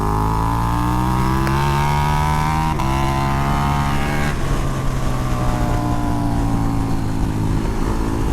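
A 2020 KTM 1290 Super Duke R motorcycle accelerating hard in third gear on a track, its loud onboard engine note rising steadily with a brief gearshift dip, wind roaring throughout.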